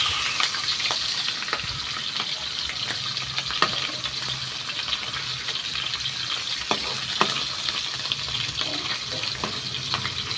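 Smoked milkfish (tinapa) frying in a pan, giving a continuous, fairly loud crackling sizzle with occasional pops and stirring clinks and no talking.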